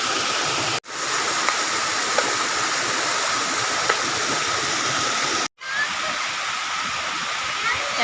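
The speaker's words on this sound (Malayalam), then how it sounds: "ഞങ്ങളെല്ലാവരും കൂടെ ഇവിടെ വെള്ളച്ചാട്ടത്തിൽ വന്നതാട്ടോ." The Kalloor waterfall rushes steadily and loudly, a constant broadband roar of falling water close by, broken by two very brief dropouts.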